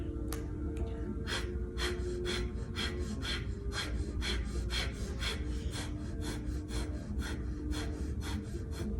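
Rapid pumping breaths in a yoga breathing exercise, sharp rhythmic exhalations from the navel repeating about twice a second for the whole stretch, close and steady with no talking.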